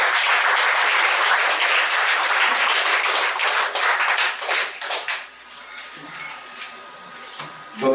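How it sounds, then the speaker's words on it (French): Church congregation at a Sunday service applauding children, a loud burst of many hands clapping that holds for about five seconds, then thins into a few scattered claps and fades to quiet. "Je vous demande encore une fois de les applaudir."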